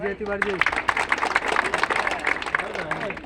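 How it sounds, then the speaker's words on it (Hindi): Audience clapping at a company prize ceremony in India, a dense, continuous burst of applause with crowd noise running throughout, while a voice talks briefly over the start and again near the end. "जोरदार तालियां बजाइए।"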